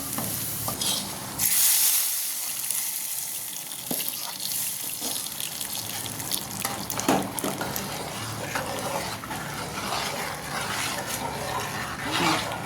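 A hot tempering of fried garlic, dried chillies and bay leaf is poured into bottle gourd dal, starting with a burst of sizzling and then settling into stirring and bubbling sounds. The noise stays close, with no talk.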